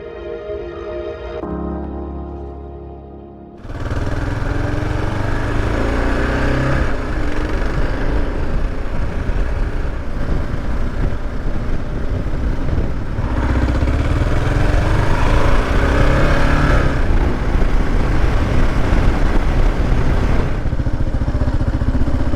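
A Kawasaki KLR 650 adventure-touring motorcycle is ridden out on the road. After a brief quieter start, the engine surges in and holds a steady, close, rumbling drone with wind noise for the rest of the ride.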